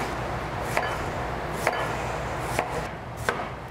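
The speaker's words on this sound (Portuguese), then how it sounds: "vai picar uma cebolinha para dar um temperinho no espinafre" A kitchen knife chops an onion on a board for spinach sauce, giving four crisp, evenly spaced taps close by over a steady background hiss.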